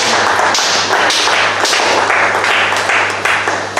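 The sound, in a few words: congregation acclaiming, applause at church conference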